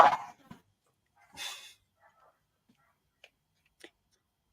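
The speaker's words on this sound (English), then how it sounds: "having a row with the dogs" Dogs bark in the background of a football recap chat: two loud, close yelps at the start and middle, followed by a few faint ticks and quieter sounds in an otherwise quiet room.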